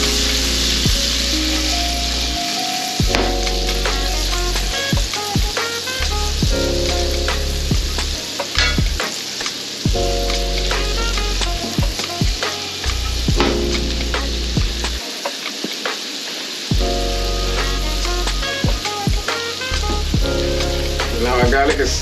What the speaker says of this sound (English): I'm adding butter, which I'm going to be cooking at low heat as it's frying.